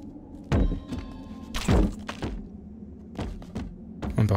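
Slingshot shots in The Simpsons Game, heard as a series of sharp, close thunks with low booming tails, irregularly spaced across a few seconds, with a brief ringing tonal hum between the first two hits and no voices.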